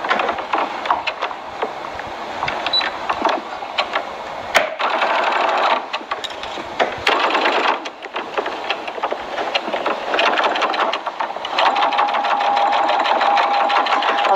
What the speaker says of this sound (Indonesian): Sekarang ni kita jahit di bahagian luar ataupun di atas fabric stabilizer?